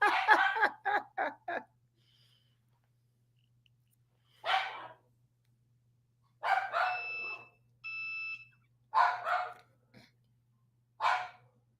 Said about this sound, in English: And my dogs.